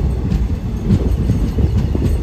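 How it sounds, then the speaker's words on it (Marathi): The 01442 Latur–Pandharpur special train rolls loudly along the rails on a curve past Ausa Road, a heavy low rumble broken by a steady clickety-clack of wheels close by, with no talk. "आपली गाडी आता पंढरपूर निघालेली आहे"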